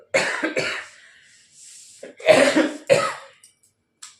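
A person with a cold gives several harsh, close coughs in quick bursts, separated by short breaths and a pause, then a faint final sound.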